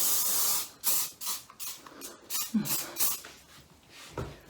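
Short bursts of hairspray lacquer hiss out close by onto hair, one spray after another in uneven pulses with brief pauses between them.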